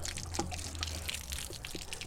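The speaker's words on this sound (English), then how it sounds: "let that those 6 gallons of water drain away" Water drains from a 6-gallon RV water heater tank on a Boler camper, a steady trickling pour with a few drips and a low rumble underneath, close by and without voices.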